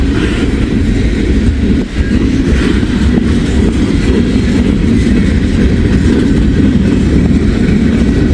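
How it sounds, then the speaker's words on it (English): A heavy CSX freight train with coal hoppers, lumber cars and loaded auto racks rolls past up close, a loud continuous low rumble and rattle of wheels and cars that holds steady for the whole stretch. "Probably a pretty heavy train"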